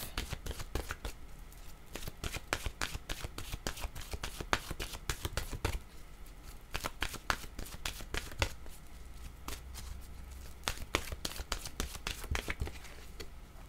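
Oracle cards being shuffled and drawn by hand, a long run of rapid, crisp riffling flicks close by, with a brief pause partway through before the shuffling resumes.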